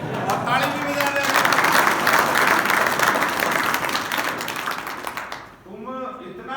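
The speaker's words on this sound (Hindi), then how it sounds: "और ताली भी बजा दे" Loud applause from a crowd, dense clapping that swells and then fades, with a voice speaking as it dies away.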